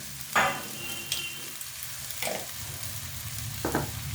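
Par-boiled potatoes go into a simmering Bengali fish curry in a pan, a low bubbling sizzle with a few distinct clatters and stirring knocks spaced across the stretch.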